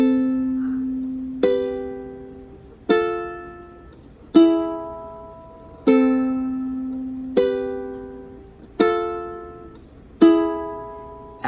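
Ukulele strumming a theme song's chords at full tempo: eight sharp, evenly spaced strums ring out and decay, played alone and close with no voice.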